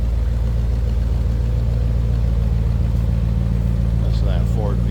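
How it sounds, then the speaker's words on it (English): A 1959 Ford Thunderbird convertible's V8 running steadily at idle, a loud, close, deep rumbling drone with a constant low throb throughout. "That's that Ford V8."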